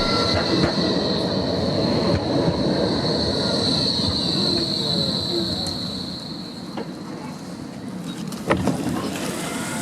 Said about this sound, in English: And let's take a ride on the trams.